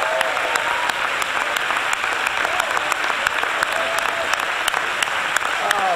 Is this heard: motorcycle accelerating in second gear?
no